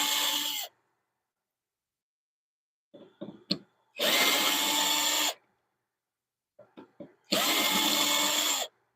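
A power drill driving screws out of a woodturning lathe setup: two long, loud bursts of whirring, each led by short stuttering blips as the bit seats on the screw, with silence between.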